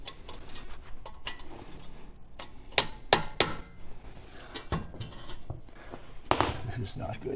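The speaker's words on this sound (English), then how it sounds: "I'm going to try to hammer this through the other way." Metal strikes ring out as a shear pin is hammered through the auger of a Honda HS928 hydrostatic snowblower: irregular sharp clinks and taps, some louder blows clustered together, close up with quiet handling between.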